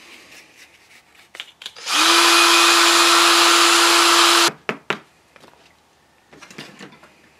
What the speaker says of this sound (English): my drill is working quite well